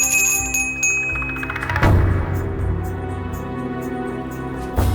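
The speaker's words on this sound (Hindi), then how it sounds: "और आप यहाँ बैठ के घंटी हिला रहे हैं" A hand bell rung during prayer at home rings out in bright, sustained tones, with a strong struck onset near the middle and another near the end, set against a busy background.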